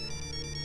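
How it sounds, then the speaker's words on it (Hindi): A mobile phone ringtone plays for an incoming call, a steady, bright, melodic tone that is loud and close, with no voices. "किसका फोन है? पापा का फोन है।"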